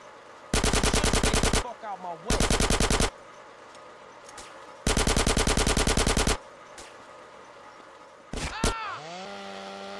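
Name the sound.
gunfire in video game GTA San Andreas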